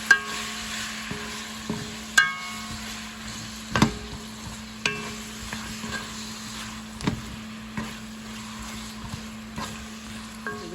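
Chicken pollo guisado with sofrito stews down in a pot, giving a soft steady sizzle and bubbling under periodic clinks and scrapes of a spoon stirring.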